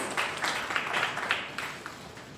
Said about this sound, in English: Warm round of applause as she joins us.